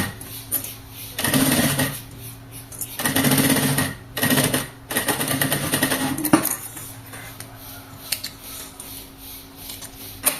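A sewing machine runs in several short bursts, starting and stopping as it backstitches fabric for a tablet case, with quieter handling noises in the pauses.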